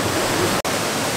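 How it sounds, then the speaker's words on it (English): Rushing water from a waterfall at an abandoned dam, a steady broadband roar that fills the whole moment, close and loud, with a very brief dropout midway. "You need to get your head like under the fountain, under the waterfall."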